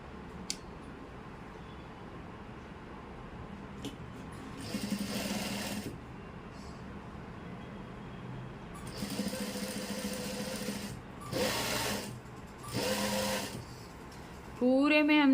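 A domestic sewing machine stitching palazzo trousers, running in several short bursts of whirring that start and stop, with quiet room noise between them.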